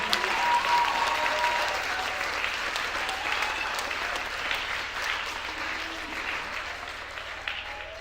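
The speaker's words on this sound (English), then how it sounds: "A round of applause for our sponsor, the award winners." An audience at an end-of-year school show gives a round of applause, sustained dense clapping that stays loud and steady throughout, then slowly thins a little toward the end.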